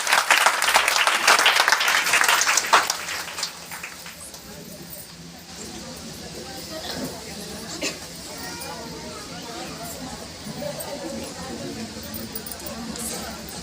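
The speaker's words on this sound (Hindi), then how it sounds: "जोरदार तालियां सबके लिए।" Audience at a Hindi motivational seminar gives a loud round of applause for a few seconds, which quickly thins into a steady hum of room noise and scattered sounds.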